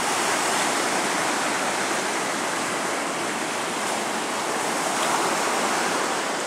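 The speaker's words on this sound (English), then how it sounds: "there's some pretty big waves way out there" Big ocean waves breaking on a shoreline with paddle boarders out, a steady broad wash of surf and roar, continuous and fairly loud, with no talking.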